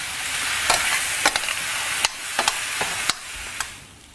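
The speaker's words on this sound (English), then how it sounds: "Stir them about a bit." Cubed potatoes and chopped tomatoes frying in a pan, a continuous close sizzle broken by several sharp scrapes and knocks of a utensil as they are stirred about.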